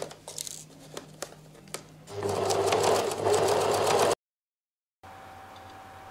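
Sewing machine stitching the shoulder seam of a coat lining, a brief faint stitching run with scattered clicks, then a loud steady whirring burst, a moment of silence, and a softer hum at the end.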